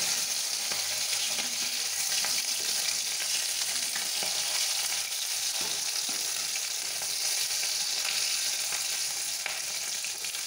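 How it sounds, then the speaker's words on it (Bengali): Pabda fish fry in hot oil with a steady, dense sizzle and frequent sharp spattering pops that run continuously and loudly throughout, with no talking. "পাবদা মাছগুলো বোম ফাটার মতো ফাটছে।"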